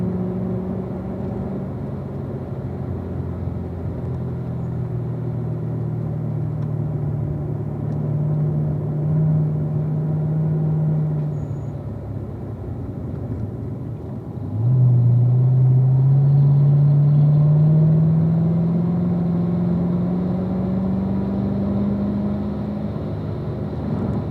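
A car lapping a race track gives a steady, loud engine drone from inside the cabin. The pitch climbs slowly, dips, then rises again as the car accelerates onto a straight, with no talk.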